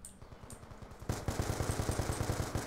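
Rapid bursts of automatic gunfire from Black Ops 2 on PC, a Scar-H rifle on the Turbine map, quieter at first then louder, a steady rattling stream of shots.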